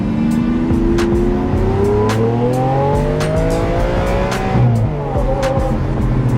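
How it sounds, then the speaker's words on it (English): A warmed-up Lamborghini engine revs hard toward redline, its pitch climbing steadily in a loud, continuous howl, dipping briefly near the end before rising again, with no talking over it. "Pretty much took it to red line there. Engine's nice and warm."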